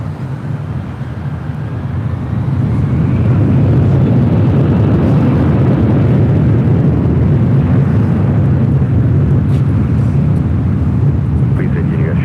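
Delta airliner beginning its takeoff roll on runway 24 Left at LAX, a broad low engine roar swelling over the first seconds and then holding steady and loud, with a faint rising whine above it.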